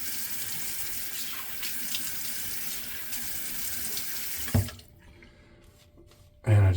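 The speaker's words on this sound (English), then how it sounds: "And get some water on my face." Water runs from a tap into a bathroom sink in a steady, close hiss, then shuts off abruptly, leaving a brief quiet followed by a thump.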